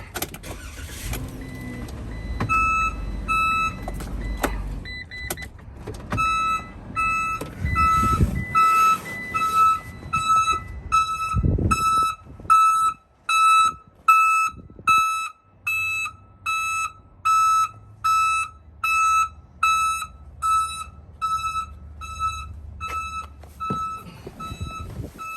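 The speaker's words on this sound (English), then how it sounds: "and put it on reverse so you can hear it." A reverse backup alarm newly installed on a commercial van beeps in a steady repeating rhythm, loud and close, after the engine starts, with a low idle rumble beneath the later beeps.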